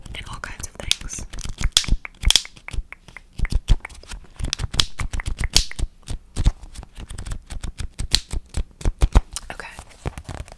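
Paper envelopes are handled up close in quick, crisp taps, flicks and rustles that come in dense, uneven bursts, with faint whispering in between.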